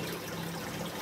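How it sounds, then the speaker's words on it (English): Water flowing out of a fish-room aquarium plumbing pipe, a steady, close trickling and gushing stream with no voices over it. "And water is flowing out."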